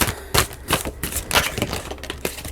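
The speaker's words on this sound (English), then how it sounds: "I'm going to go ahead and shuffle the cards" A deck of oracle cards is shuffled by hand, giving a rapid series of close, crisp riffling and tapping bursts with no talk.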